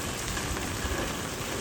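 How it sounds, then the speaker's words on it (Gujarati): Monsoon rain falling steadily in Savarkundla, Gujarat, a dense, even hiss of drops on surfaces, close and continuous with no pauses or voices. "વરસાદ આવ્યો છે, પાણી અંદર જાય નહીં ટાંકાની અંદર."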